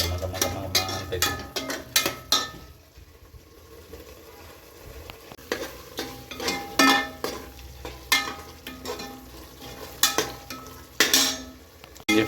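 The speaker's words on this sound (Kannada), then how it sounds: "ಹೀಗೆ ಫ್ರೈ ಮಾಡ್ತಾ ಇದೆಲ್ಲ ಒಂಥರ ಚೆನ್ನಾಗಿ ಬೆಂದು ಎಣ್ಣೆ ಎಲ್ಲ ಬಿಟ್ಕೋಬೇಕು" Ginger garlic paste frying in oil for biryani, a close sizzle under frequent scraping and clanking as a spoon stirs and knocks the pan in an uneven rhythm throughout.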